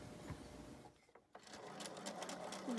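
A sewing machine stitches two layers of fabric for a pleated face mask, starting mid-way along the long side, a steady rapid mechanical whir that pauses briefly and then resumes, close and fairly loud.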